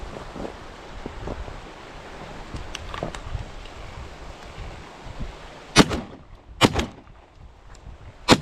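A few sharp, loud bangs ring out during an outdoor ptarmigan hunt, two close together and another near the end, over windy background noise and scattered faint knocks.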